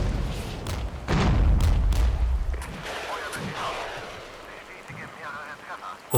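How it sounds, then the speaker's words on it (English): Artillery shelling in the video game Regiments, heavy booms and blasts thudding in a burst early on, then lighter scattered detonations and crackle fading under the battle noise. "Artillery is ordered to start the shelling of Friedland."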